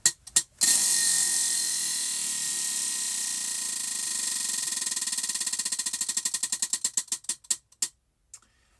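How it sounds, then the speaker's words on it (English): A prize wheel spun to pick a crochet stitch buzzes in a fast, steady ratcheting whir, then the clicks slow and space out until the wheel stops, loud and close with no talking. "so let's spin for the first stitch"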